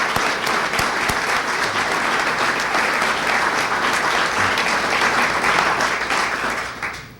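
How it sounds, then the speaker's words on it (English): Sustained, dense audience applause fills a hall at the 2014 Maine Women's Hall of Fame induction ceremony, steady and loud for several seconds before tapering off at the end. "let's give all the previous inductees a round of applause for all their work"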